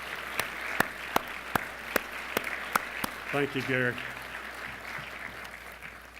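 An audience at a scholarship brunch keynote applauds a community leader, with crisp, evenly spaced claps standing out close by over a soft crowd wash, followed by someone speaking briefly.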